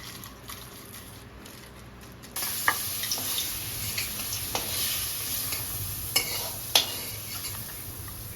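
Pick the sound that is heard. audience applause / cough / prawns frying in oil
prawns frying in oil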